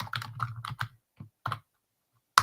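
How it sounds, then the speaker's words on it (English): Computer keyboard typing: a quick burst of clustered keystrokes, then a few isolated taps with pauses, and a final sharp key press, close and clear with no talking. "I'm typing 1 second."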